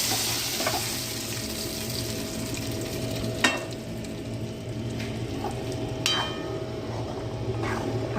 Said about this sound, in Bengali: এবার এটা ডালের ভিতরে ফোড়ন দিয়ে দিলাম।